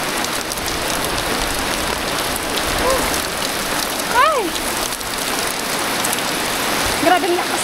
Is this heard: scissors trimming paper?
no